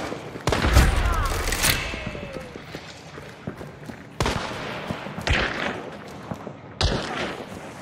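Gunfire in the video game Hunt: Showdown: a loud close shot burst, followed by further sharp shots spaced a few seconds apart over faint ambient noise.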